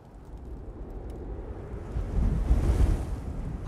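Wind blows on a cold winter night in a film scene, a steady low rushing gust that swells louder toward the end, broad and roaring with no other sounds on top.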